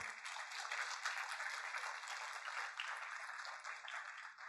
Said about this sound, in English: please give them a big round of applause to welcome them